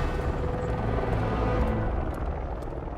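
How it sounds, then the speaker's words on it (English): A helicopter in Batman: Arkham Knight dropping a passenger at a rooftop helipad, a steady whirring rotor drone at moderate volume with no voices. "Commissioner Gordon as he's dropped off at the helipad on the roof of Panessa Studios"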